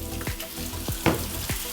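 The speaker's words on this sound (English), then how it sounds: "Now we're going to cook your burgers. So you're on a nice hot pan again, good bit of oil" Oil sizzles in a hot frying pan readied for burgers, a close steady crackle punctuated by sharp spits and pops at irregular intervals.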